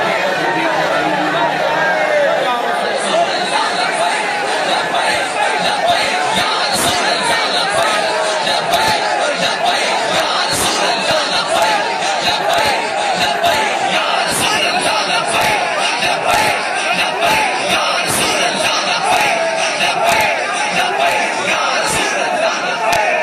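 Large crowd at a religious gathering chanting slogans, a loud continuous roar of massed voices with sharp shouted peaks running throughout.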